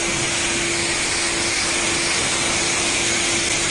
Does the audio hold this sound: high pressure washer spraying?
yes